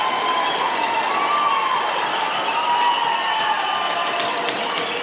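A crowd cheers and roars without letting up after a goal in a box lacrosse semifinal between the Hamilton Bengals and Six Nations Rivermen, a dense, fairly loud wash of voices with a whistle-like tone running through it.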